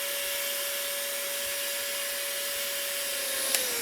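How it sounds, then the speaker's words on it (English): A steady, close vacuum drone with a whooshing suction hiss runs throughout as it sucks water off a vinyl record, with a faint brief squeak near the end. "really let the vacuum suck up any remaining water that's on there."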